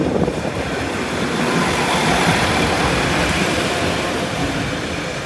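A heavy sand train rumbles past nearby through a junction at Brayford level crossing, a steady broadband roar of wheels and wagons that stays loud throughout.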